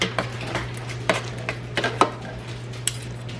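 Cooked chicken shredded for a slow-cooker chicken and rice soup, heard as quiet scattered clinks and scrapes of utensils against a pot or dish over a low steady hum.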